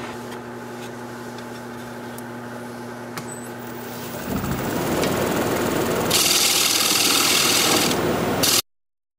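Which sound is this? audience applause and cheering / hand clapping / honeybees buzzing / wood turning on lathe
wood turning on lathe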